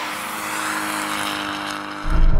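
Toyota GR86 and Supra Mk4 launching side by side in a drag race: a steady, loud, wideband engine roar held close, with a deep low-end surge rising near the end.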